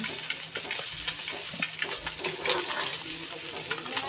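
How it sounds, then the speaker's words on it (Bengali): Fish frying in a pan, a steady hissing sizzle with bubbling spatter, loud and close, continuing without pause. "মাছ ভেজে নিচ্ছি"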